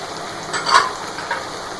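Beef trotters fry in a pot with garlic-ginger paste, turmeric, chilli, coriander powder and salt, giving a steady close sizzle with a brief stirring scrape near the middle.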